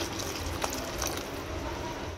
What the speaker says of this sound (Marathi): इथे अजून थोडं गरम पाणी घेते।